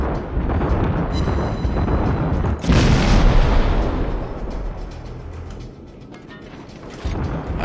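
Minekaze destroyer guns firing in the World of Warships video game, a dense, loud rumble of booming shots with a heavier blast near the middle, fading slightly before rising again near the end, with no talk.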